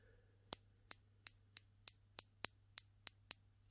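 A Spinnaker watch's 120-click ratcheting bezel turned step by step, giving about ten sharp, crisp clicks at an even pace, close and isolated against a faint steady hum.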